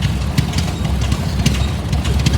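A John Deere Model B tractor runs in a parade of power, its two-cylinder engine popping in a steady, loud, rhythmic chug close by.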